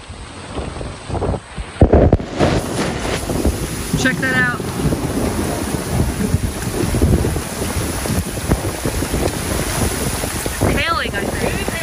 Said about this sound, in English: Another gust of wind's picking up.